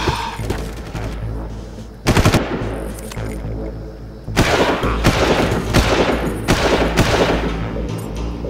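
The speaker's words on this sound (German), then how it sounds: "Jetzt haben wir ihn zweimal in den Hintern geschossen." Gunfire in the video game Far Cry rattles out in loud, rapid automatic bursts mixed with heavier single shots, nearly continuous with a brief pause partway through.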